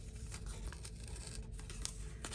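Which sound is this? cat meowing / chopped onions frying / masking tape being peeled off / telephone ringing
masking tape being peeled off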